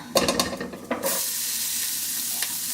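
Leafy greens hit a hot pan with a few clattering stirs, then settle into a steady, bright sizzle of frying.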